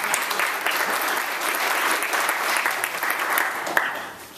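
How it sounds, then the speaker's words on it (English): A roomful of attendees at an affordable housing and transit kick-off meeting in Durham breaks into applause, steady, dense clapping from many people at close range that continues evenly and tapers slightly at the end. "Give yourself a round of applause"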